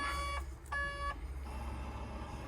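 Two sustained electronic warning beeps from a vehicle with an SCR malfunction sound close by over a low engine rumble, then a quieter steady tone continues.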